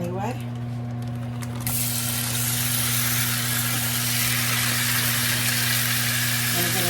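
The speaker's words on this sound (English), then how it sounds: "I'm going to go ahead and add in my steak that has been marinating" Marinated steak hits a hot pan and a loud, broad sizzle bursts in after a quiet stretch, then holds steady and strong over a constant low electrical hum.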